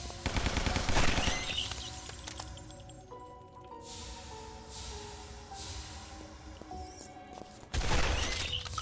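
Loud shotgun shots boom at the start and end in the video game Guns, Gore & Cannoli, with a quieter stretch of music and effects between them.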